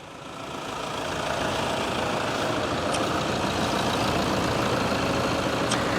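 A 2011 Toyota Fortuner 3.0 V settles into an idle just after starting, its diesel rumble rising over the first second and then holding a steady, close, even clatter with no talk.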